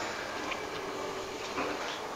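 A dough mixing machine kneads bread dough made with biga, malt and water, giving a steady, fairly quiet mechanical whir with a faint hum and a few soft clicks, with no talking.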